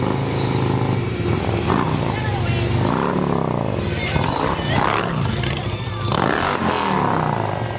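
A motorcycle engine revs loudly and steadily through a crowd at a presidential inauguration event, its roar rising and falling in repeated throttle blips over constant background crowd noise and talk.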